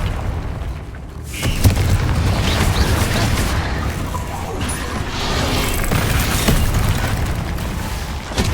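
Explosive spell blasts in a Hogwarts video game, a sharp crack followed by booming, crashing rumble that stays loud and dense throughout, with further bursts layered in.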